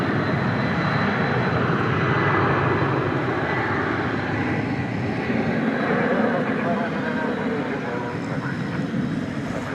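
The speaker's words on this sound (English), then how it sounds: "That was American Flight 2850 off to Los Angeles," An American Airlines Airbus A321 jet departs on a flight to Los Angeles at night, its broad engine roar steady and loud for the whole stretch, with a voice talking over it.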